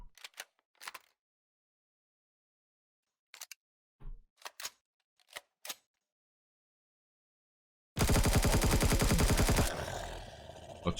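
Gunfire in the sci-fi survival game Empyrion Galactic Survival on a desert planet: a few sharp, isolated sniper-rifle cracks spaced apart, then a loud, sustained rapid burst of turret fire near the end before it tails off.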